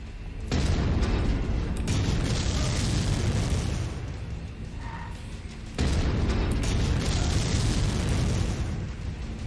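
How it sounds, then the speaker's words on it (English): Autocannon fire from a mech in the MechWarrior 5 video game, two long stretches of loud, dense booming bursts separated by a brief lull, close and continuous. "So I've used 50 rounds for this autocannon."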